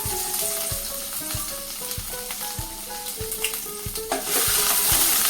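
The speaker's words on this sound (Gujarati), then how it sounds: "ત્યાર પછી ઉમેરી દઈએ આદુ અને લસણ." Ginger and garlic dropped into hot oil already seasoned with cumin and asafoetida, sizzling steadily with a few sharp crackles, rising into a louder fry near the end; close and continuous, no voices.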